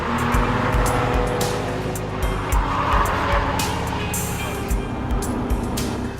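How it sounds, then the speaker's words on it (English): A naturally aspirated V8 Jaguar XF at speed on the Nürburgring in 2007, the engine droning loud and steady from inside the cabin, with road and wind roar throughout and occasional sharper bursts. "we're just in a standard naturally aspirated V8"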